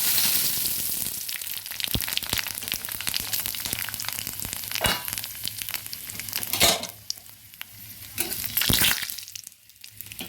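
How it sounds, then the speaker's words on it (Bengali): Panch phoron five-spice seeds spluttering in hot oil in a frying pan, a close crackling sizzle broken by sharp pops and occasional stirring scrapes, loud and uneven, with nobody speaking. "পাঁচফোড়নটা ফুটে গেছে ভাজা হয়ে গেছে"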